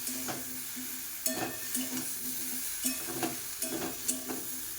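Food fries in a pan with very little oil, sticking to the surface, while a utensil scrapes and stirs in a steady, repeated rhythm over a soft continuous sizzle, close and moderately quiet, with no voices.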